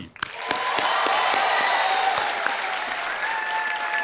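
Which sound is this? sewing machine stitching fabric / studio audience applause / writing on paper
studio audience applause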